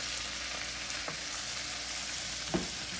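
Ramps fried with potatoes in a country-style skillet, a quiet continuous frying hiss with a few soft stirring scrapes, the last one slightly louder, no voices.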